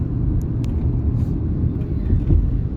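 A car drives along a fairly empty city road, heard from inside as a steady low engine and road rumble with faint brief ticks, no talk over it.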